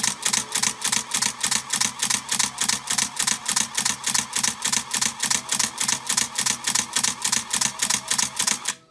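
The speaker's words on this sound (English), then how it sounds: "The shutter should fire, keep firing." A Canon T90 camera shutter fires over and over in a fast, even rhythm, each crisp mechanical clack and whir repeating about three times per second, close and clear with no talking.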